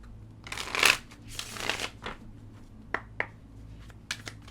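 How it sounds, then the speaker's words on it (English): A deck of tarot cards is shuffled by hand at close range, with two longer riffling bursts followed by lighter taps and flicks as the cards settle, quiet and without talk. "Let's get a good shuffle on these cards before we really get into it."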